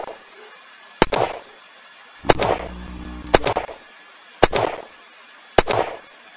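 Gunfire aimed at a big zombie in the Unturned video game: five sharp, loud shots spaced about a second apart, with brief rumbling tails between them.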